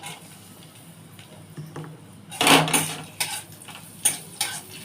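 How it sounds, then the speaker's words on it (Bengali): Cashews and raisins being stirred in ghee in a pan, giving a few scraping, clinking metal-on-pan strokes in short bursts, with quiet background between them and no talking. "দিয়ে আমি কাজু কিশমিশটা একটু নেড়ে নেবো।"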